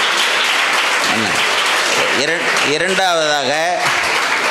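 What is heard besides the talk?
audience applause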